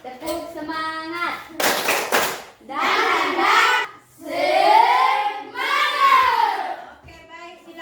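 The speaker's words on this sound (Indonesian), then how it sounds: "Semua berdiri, tepuk semangat." Students standing in a classroom do a rhythmic group clap chant, a quick burst of close, sharp clapping set between stretches of children's voices chanting together loudly.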